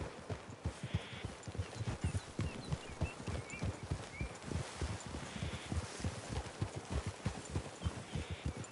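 Horses walking in the Red Dead Redemption 2 video game, a steady close clip-clop of hooves on soft ground with rustling undergrowth and a faint snort, no voices.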